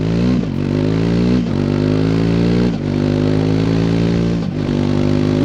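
Triumph Speed 400 single-cylinder motorcycle exhaust on the overrun, a loud, close engine note that repeatedly falls as the throttle closes, with brief pops and crackles between the descending sweeps.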